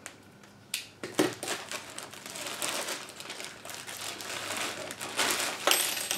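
An EinScan Pro+ 3D scanner box is opened by hand, with close, busy crinkling and rustling of plastic packaging, sharp crackles and small knocks of cardboard over several seconds.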